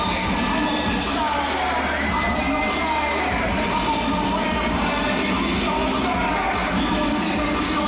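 A packed crowd at a cage-fighting event, the Butte Brawl, roars and cheers in a continuous loud din, with scattered shouts and indistinct voices mixed through the noise.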